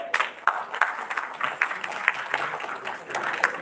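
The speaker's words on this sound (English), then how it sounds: "A huge round of applause as we welcome Sir" An audience applauds to welcome a speaker at a dental college event, moderate clapping with distinct individual claps standing out, fairly close and continuous.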